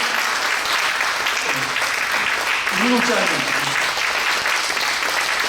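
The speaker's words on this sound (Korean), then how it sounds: "정말 이분들에게 여러분 큰 박수 한번 보내주셨으면 좋겠습니다" A congregation at a church installation service for a denomination's general assembly president gives loud, sustained applause, with a voice briefly speaking over the clapping.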